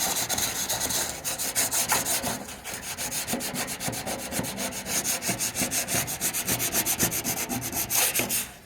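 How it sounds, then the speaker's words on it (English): Hand sanding of old paint on a 1977 StarCraft Holiday boat hull with coarse 100 grit sandpaper, a loud, steady run of rapid back-and-forth rasping strokes close up, continuing without a break and with no talking. "So taking a piece of that 100 grit, and I'm not going for a polished finish."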